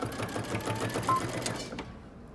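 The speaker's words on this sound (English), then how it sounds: "I'm going to stitch using 5/8 of an inch for about an inch" A sewing machine runs a steady straight stitch along a 5/8-inch dress seam, an even close mechanical whir that continues for about two seconds and then stops.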